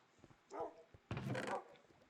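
A dog barks in the video game Minecraft, two short yaps in quick succession, fairly close and clear over a faint background hum.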